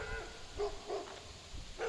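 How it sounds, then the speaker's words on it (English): Several short dog barks from across the street, distant and spaced irregularly over a steady background hum. "We got some noisy dogs across the street"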